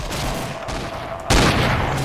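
Gunfire in the Roblox zombie game Project Lazarus, a dense burst of rapid shots that drops briefly and then returns louder and harsher, sounding close and continuous with no talking.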